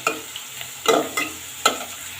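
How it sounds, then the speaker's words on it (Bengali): Onions and potatoes fry in a pan, with a soft sizzle underneath and several distinct scraping stir strokes spaced irregularly across the clip, close and moderately loud without voices. "আর এই দিক দিয়ে আমার আলু ভাজা হয়ে যাচ্ছে।"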